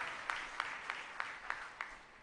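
Listeners at a spiritual satsang discourse clap in unison, six soft, evenly spaced claps at a measured rhythm, faint and somewhat distant.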